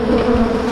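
Dense, steady hum of many honeybees swarming over an opened, strong hive, a continuous close buzz with no voices.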